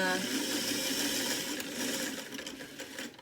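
A sewing machine stitching vinyl cording on a tight stitch, a loud, steady close-up whir that slows and stutters near the end.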